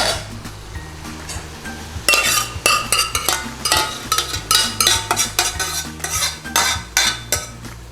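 Base gravy is stirred into a double portion of chicken dopiaza in a pan, with repeated metallic scrapes and clinks of a utensil against the pan over a low bubbling sizzle, loud and close.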